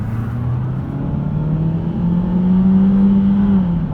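A 20-year-old Ford Focus Ghia with a failing battery-light fault drives along, its engine droning low and loud from inside the cabin, revs climbing and dropping as the gearbox shifts through the gears; nobody talks.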